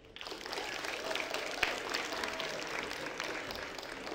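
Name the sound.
audience applause for speaker Paul Tang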